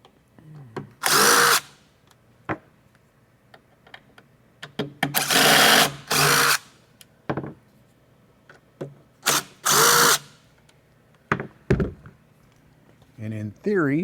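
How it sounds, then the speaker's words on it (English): A power driver backs machine screws out of the grill of an FBT Subline 112SA active 12-inch subwoofer, whirring in several loud, close bursts of one to two seconds each, with quieter clicks between and someone talking in the pauses. "So we'll go ahead and get the screws pulled out here. These are machine screws holding the grill on."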